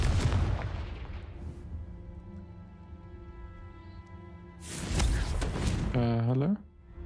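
A Confringo fire spell goes off in Hogwarts Legacy as a loud booming blast near the start, decaying into a low rumble, followed by a second burst of noise and a rising tonal whoosh; a voice is heard speaking.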